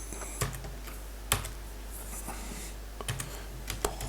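Sparse keystrokes click on a computer keyboard, a handful of distinct close taps spaced irregularly over a low steady background hum.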